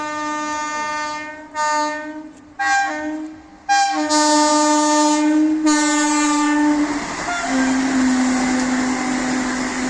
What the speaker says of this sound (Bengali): আমাদের দেখা হয়ে গেল নিউ জলপাইগুড়ি টু হাওড়া বন্দে ভারত এক্সপ্রেসের সাথে